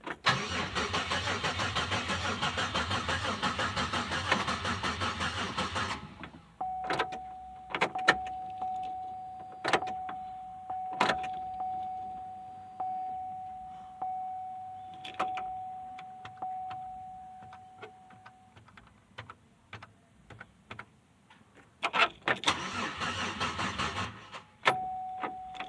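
A 2006 Pontiac Grand Prix engine cranks in a brief loud burst on a first startup attempt after a top swap, then short rhythmic clicks and faint whirring follow, ending with another cranking burst that doesn't catch.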